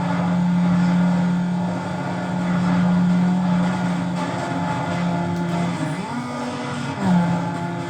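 Honda Civic engine in the racing video game Need for Speed Underground, a steady loud hum that revs up and drops back in pitch around the gear changes near the end, alone with no talk.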